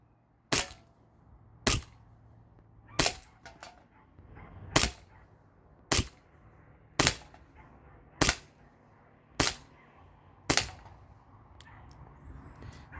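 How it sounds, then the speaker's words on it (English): Sig Sauer Emperor Scorpion BB pistol fired at a can, nine sharp, evenly spaced cracks about a second apart, each with a brief metallic ping, alone against a quiet background. "So I think I'll just shoot at the can like one or two more times"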